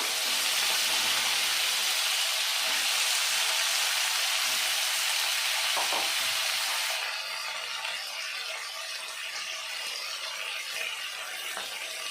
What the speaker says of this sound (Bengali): এখন আমি ওই তেলে সিমগুলো ভেজে নেব